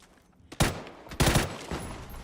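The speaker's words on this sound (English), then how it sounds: "Mortars flying overhead." Mortar fire in the battle royale game PUBG, two sharp booming bursts about half a second apart, each trailing into a rumbling decay, fairly close and loud.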